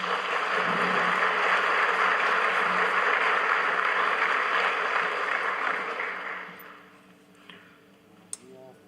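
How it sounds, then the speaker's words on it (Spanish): Audience applause at a formal Bolivian government ceremony, steady dense clapping from a crowd that fades out after about six seconds, followed by a few isolated clicks and near silence. "Lo recibimos con un fuerte aplauso."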